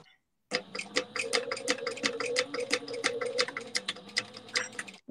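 A sewing machine bastes the tab onto a fabric travel wallet, a rapid rhythmic run of clattering needle stitches lasting about four and a half seconds, close and loud after a brief silence.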